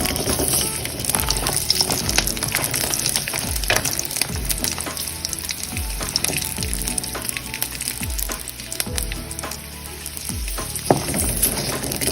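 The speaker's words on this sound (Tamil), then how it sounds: "இப்போ பாருங்க நான் இதில் பூண்டு சேர்த்துட்டேன் பூண்டையும் நல்லா வதக்கணும்" Garlic sautés in a pan for Tamil plantain kola urundai, a dense crackling sizzle with repeated low thumps and scrapes of stirring throughout, close and steady, with no talking.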